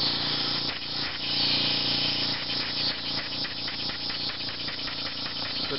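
A homemade steam engine runs on compressed air from a compressor, giving a steady hissing whoosh with a fast, rattling, rhythmic chuffing throughout.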